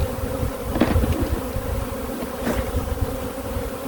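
A dense, steady buzzing of many honeybees swarming close by, well over 300, continuous throughout with a few brief louder swells.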